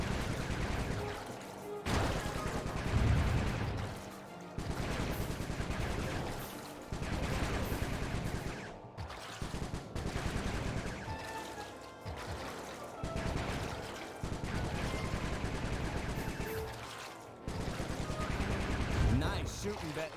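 Bursts of gunfire in the PS2 video game Sly 3: Honour Among Thieves, repeated sustained volleys separated by short pauses, loud and close, with game voices and effects in between.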